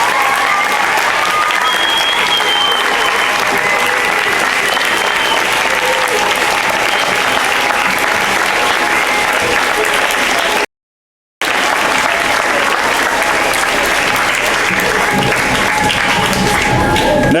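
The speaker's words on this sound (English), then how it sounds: "let's be sure we send a big round of applause off to Mr." An audience at a 2015 school awards ceremony gives sustained, loud applause with dense clapping throughout, broken by a brief silent gap before the clapping resumes.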